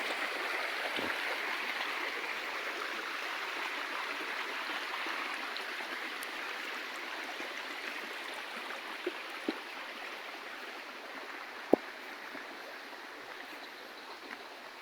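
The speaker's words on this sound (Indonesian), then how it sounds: "Untuk airnya sendiri ini jernih ya Bara ya." Clear stream water flows steadily in a rural village setting, a soft continuous rushing wash with a few faint clicks and ticks, no talking over it.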